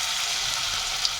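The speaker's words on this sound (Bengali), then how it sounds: "এখন ফুলকপিগুলি আমি ভেজে নিচ্ছি। একটি ফ্রাই প্যানে তেল দিয়ে দিচ্ছি।" Cauliflower pakoras fry in hot oil in a frying pan, giving a brief, steady, close sizzle with crackling.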